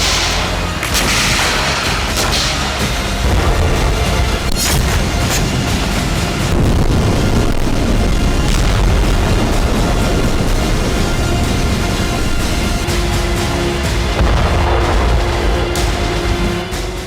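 Explosions after a drone strike on an oil depot near Crimea boom repeatedly over a loud, dense rumble, with heavy thuds and crackling bursts across the whole stretch and no voices.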